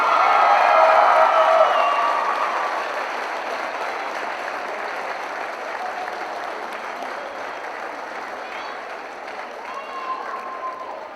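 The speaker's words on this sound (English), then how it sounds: "Please give a round of applause for the 2015 All-Tournament team" Audience applause at a 2015 boys' county tournament award ceremony, loud clapping and some cheering from a crowd in a gym, swelling at first then fading to a steady patter.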